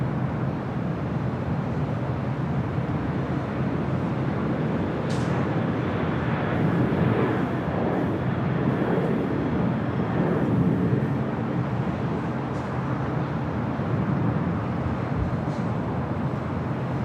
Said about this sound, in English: the Emirates A380 Super arriving yesterday during our broadcast